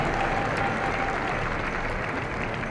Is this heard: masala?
no